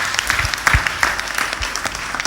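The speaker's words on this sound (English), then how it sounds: "So give him a round of applause." An audience at a Sunday homily claps together in a round of applause, a dense, steady patter of many hands that holds fairly loud and close throughout, with no one speaking.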